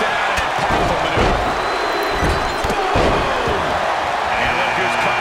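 A packed wrestling arena crowd at the 2013 Royal Rumble chants a loud rhythmic countdown, with dull slams and roars mixed in and a commentator's voice over the top.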